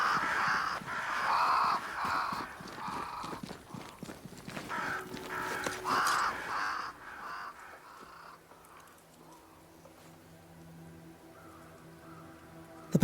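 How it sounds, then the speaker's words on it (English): Crows in Banishers: Ghosts of New Eden caw repeatedly in a loud, close flock for about seven seconds amid clopping hoofbeats, then fade to sparse distant calls over a quiet ambient drone. "Crows. They flock to that great tree up there."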